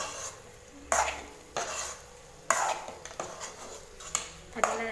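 Boiled cauliflower for gobi manchurian is stirred in a frying pan, making repeated sharp spoon scrapes over a soft background sizzle.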